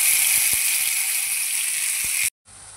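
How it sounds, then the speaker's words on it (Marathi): Green masala paste sizzles steadily in a spoonful of hot oil in a pan, a loud, dense frying hiss that cuts off abruptly near the end, followed by a quieter, lower sizzle. "ते आता मी फ्राय करायला टाकत आहे।"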